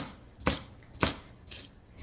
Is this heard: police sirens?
no